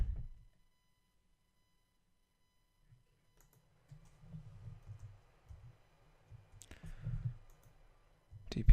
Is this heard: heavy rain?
no